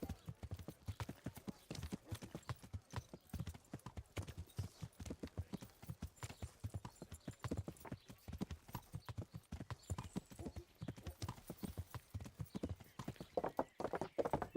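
Hooves clip-clop steadily as a horse is ridden in the video game Kingdom Come: Deliverance, a brisk, rhythmic trotting that continues for the whole stretch and grows slightly louder near the end.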